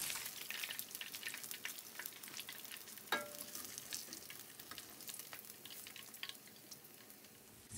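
Fish fries in hot oil in a pan, a steady soft sizzle with fine crackling pops and one brief clink partway through, quiet and continuous with no talk.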